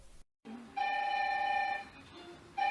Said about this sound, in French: Le premier coup de téléphone a retenti